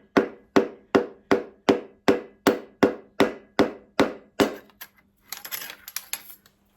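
A hammer taps a part into the compressor during a TEF 20 engine rebuild: about a dozen sharp, evenly spaced metallic knocks, close and clear, followed by some brief rustling and handling noise.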